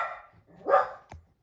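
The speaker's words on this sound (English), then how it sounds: "Sorry about the dog." A dog indoors gives a couple of sharp, close barks, then a short rising yelp, with quiet gaps between them.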